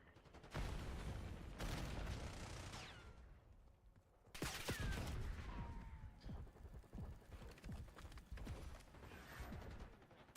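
Video game gunfire in an objective-capture match: bursts of shots and rapid fire crackle loudly in several clusters, with sharp onsets around the start and midway, plus scattered mechanical clatter and explosions in between.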